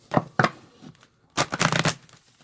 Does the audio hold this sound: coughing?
no